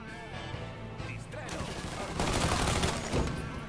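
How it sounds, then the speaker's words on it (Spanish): Gunfire bursts in the video game Mafia III, starting sparse and swelling into dense, loud volleys of rapid shots and crackling impacts in the second half. "Veo disparos desde allá."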